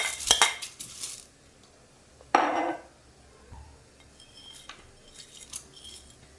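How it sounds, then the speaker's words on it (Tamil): Soaked lentils are tipped into a pressure pan, with sharp metallic clinks and scrapes of a utensil against the pan, a burst of grains pouring in, then quieter intermittent taps and rattles. "ஊற பறித்த பருப்பை ப்ரெஷர் பேனில் சேர்த்துக்கலாம்."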